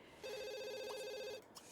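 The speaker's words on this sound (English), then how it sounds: "I'm gonna answer the phone" A telephone rings in The Sims 2 with one short, steady electronic trill lasting about a second, fairly quiet and heard without any voices.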